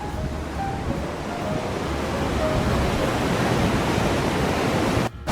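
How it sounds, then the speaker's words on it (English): Water pours out through an Erie Canal lock gate in a loud, steady rushing roar, close by and unbroken, with no voices. "The water's pouring out."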